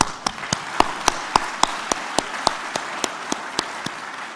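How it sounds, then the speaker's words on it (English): Applause at a talk at La Triennale for the organizing team, with sharp, regular claps from one nearby person standing out at a steady beat over a softer bed of crowd clapping. "Please give them a very big round of applause"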